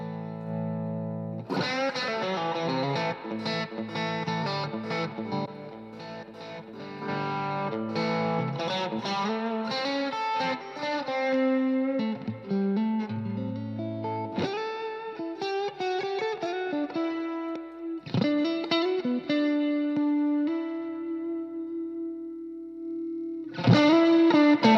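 Electric guitar played through a Boss Blues Driver overdrive pedal, with strummed chords and single-note lines in warm, gritty distortion. It plays alone and steady throughout, with a brief pause before ringing sustained chords near the end.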